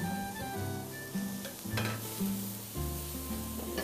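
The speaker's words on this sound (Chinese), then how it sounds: "用小火去炒它" Chopped scallions and garlic fry gently over low heat, giving a soft sizzle with intermittent scraping stir strokes in a pan, steady and close, with no voices.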